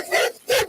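A dog gives two quick barks in a row, close and fairly loud, with a short gap between them.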